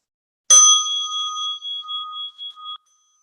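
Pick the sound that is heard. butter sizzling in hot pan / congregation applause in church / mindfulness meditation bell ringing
mindfulness meditation bell ringing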